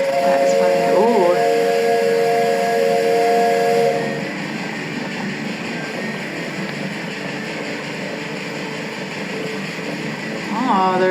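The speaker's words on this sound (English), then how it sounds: "Wow, it's a steam train." A loud, sustained steam train whistle in the video game Railway Empire 2 blows for several seconds, then fades into a steady hiss and rumble before a short whistle returns at the end.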